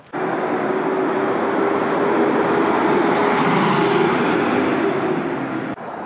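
Steady, loud road traffic roar from cars and trucks on a busy road between apartment complexes, a continuous broadband rumble that holds for several seconds and drops off at the end, with no talk.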